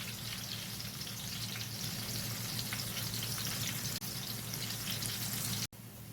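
Onions fry in a pan beside a coconut pumpkin dumpling dish, giving a steady, quiet crackling sizzle that holds throughout with a brief dropout near the end.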